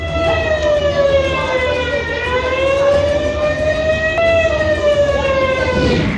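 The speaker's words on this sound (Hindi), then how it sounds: "जब हमले होते हैं तो उससे पहले इस तरह का सायरन बजता है।" A loud wailing war alert siren during an Indian civil defence mock drill holds a steady tone with slow rises and falls, sounding continuously and alone throughout.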